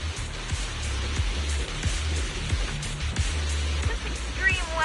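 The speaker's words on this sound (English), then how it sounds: "The wind and rain are picking up." Steady rain and gusting wind in the video game Zenless Zone Zero, a dense continuous wash of falling water with low rumbling gusts throughout and a few faint tonal sounds near the end.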